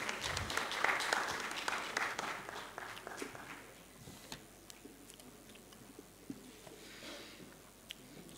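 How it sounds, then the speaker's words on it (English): Audience at a live-streamed formal event claps briefly for a guest, a fairly quiet burst of applause that thins after a few seconds into scattered single claps and room noise. "Can we give a round of applause, please?"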